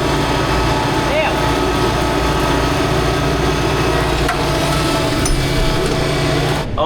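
Kubota demo tractor engine running steadily while ploughing a field, a loud, continuous droning hum close to the microphone with a faint voice now and then.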